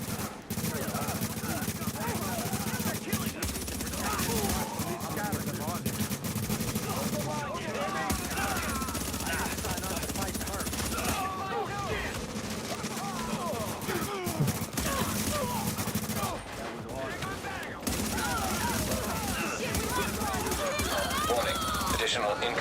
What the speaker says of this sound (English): put out a few shots.